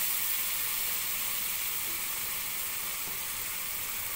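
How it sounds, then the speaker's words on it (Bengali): Spice paste sizzling steadily in hot oil in a pan for cauliflower roast, a loud, continuous bright hiss and crackle with no break and no talking. "আমি তেলের মধ্যে সেই পেস্টটাকে দিয়ে দিলাম।"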